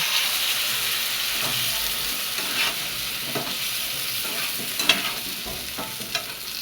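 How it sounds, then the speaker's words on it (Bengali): A spice paste of ground cumin, coriander, ginger, bay leaf and dry chilli is sautéed with turmeric and salt in a pan for a fish curry, giving a steady close sizzle broken by light stirring scrapes. "এই সাথে দিয়ে দেবো হলুদ গুঁড়ো, স্বাদ মতন নুন দিয়ে ভালো করে কষিয়ে নেব"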